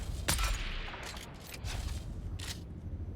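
A sniper rifle firing in a desert combat video game, a sharp loud report at the start followed by rumbling echoes and a couple of fainter distant cracks.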